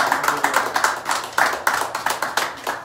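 A congregation claps together in worship, a steady run of sharp, closely spaced hand claps repeating through the clip, loud and near, with no voices over it.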